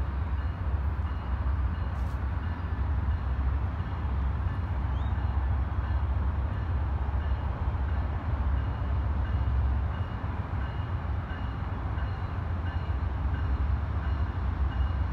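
The Amtrak Sunset Limited arrives at El Paso behind a GE Genesis locomotive, a continuous heavy low rumble of engine and rolling cars, steady and close, with no talking.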